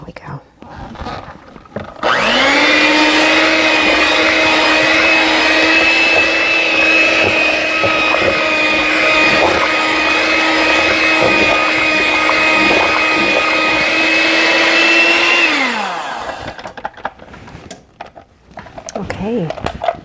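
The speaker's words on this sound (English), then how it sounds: "I'm just going to mix that in with the beaters" An electric hand mixer whirs loudly and steadily with its beaters through cheesecake batter, starting abruptly, holding a constant high whine for about thirteen seconds, then winding down and stopping.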